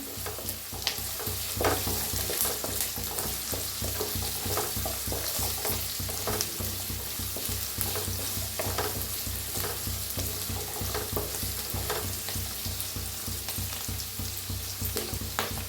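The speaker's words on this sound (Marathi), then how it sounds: "टाकूया काजू भाजून घ्यायचं" Cashews roasting with onions in a hot pan, a continuous crackling sizzle with steady scraping and stirring strokes throughout, close and even in level.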